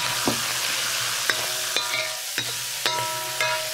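Diced lean pork stir-fried in a wok, with a steady background sizzle and a few scattered sharp scrapes and clinks of the spatula against the pan, heard alone without talk.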